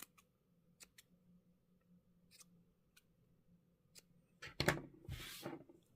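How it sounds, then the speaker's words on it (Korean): Scissors snip yarn to length while a winter hat is crocheted, heard as a few faint ticks followed by a louder close cutting snip and a brief rustle near the end, in an otherwise quiet room. "길이를 어느 정도 맞춰서 잘라주세요."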